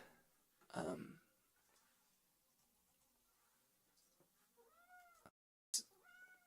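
A pet cat meowing at night in a quiet room, several clear drawn-out meows near and fairly loud, with brief pauses and faint background sounds between them.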